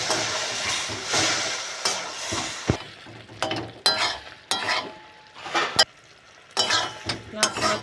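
A jujube pickle with salt, turmeric and sweet water is stirred in a frying pan, giving repeated scraping strokes and bursts of soft sizzle, with pauses between stirs and occasional utensil clinks against the pan.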